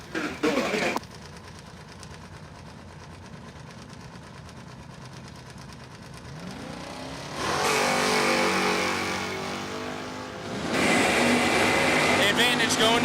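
A third-generation Chevrolet Camaro at a drag strip, engine idling low before revving and swelling into two loud bursts of acceleration, with the roar rising sharply near the end.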